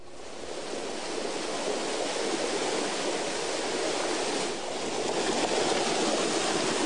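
Clean treated water gushes from a treatment plant into Whitewood Creek, a loud, steady broadband rush that fills the scene without pause.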